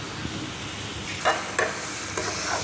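Tomato sauce seasoned with garam masala cooking in a pan, a low soft sizzle with a few sharp scraping strokes of a spoon stirring, close and fairly quiet.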